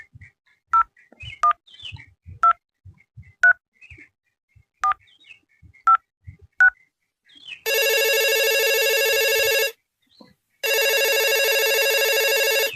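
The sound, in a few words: telephone ringing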